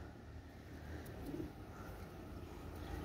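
Rare pigeons, a Royal Oman KTM pair, coo softly in a low, continuous murmur, quiet and somewhat distant against faint background noise.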